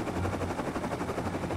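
Gunfire in the video game Rust comes as a rapid, continuous automatic burst with a rhythmic pulsing rattle, fairly loud and dense for its whole short length with no talking over it.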